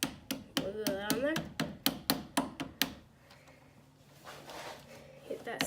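A screwdriver handle repeatedly taps a shim onto a loose car battery terminal, producing about ten sharp, evenly spaced knocks that alternate sides, followed by quieter shuffling.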